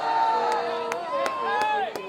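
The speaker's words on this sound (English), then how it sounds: "Crowd trying to get loud, 4th and 2." A high school football crowd cheers and roars on a fourth down, a broad sustained wash of voices with sharp bursts of claps and whoops, under a commentator's talk.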